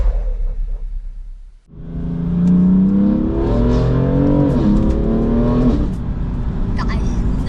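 BMW M4 engine revving hard after a brief quiet moment, a loud rising rumble climbing and holding before dropping back, close by and dominating, with people talking underneath.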